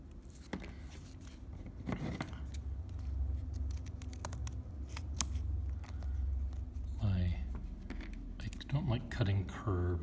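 Scissors snip and scrape through paper while cutting out a curved fish shape, with soft, irregular cuts running close and steady beneath a person talking.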